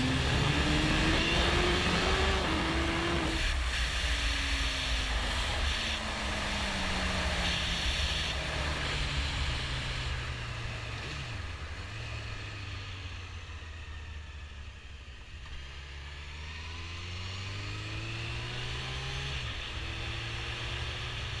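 A repaired Suzuki GSX-R 1000 K1 motorcycle engine revs repeatedly, its pitch sweeping up and down through several long rising and falling pulls, loud and near with no talk.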